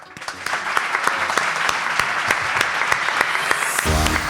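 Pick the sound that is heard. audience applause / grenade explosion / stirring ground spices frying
audience applause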